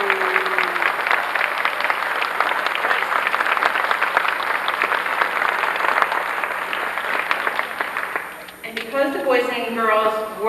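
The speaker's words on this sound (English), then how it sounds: "Let's give him a round of applause." Audience applauding at a May 1992 kindergarten graduation at St. Rose of Lima, a dense, steady burst of clapping for over eight seconds before it fades and a voice begins speaking over the last stretch.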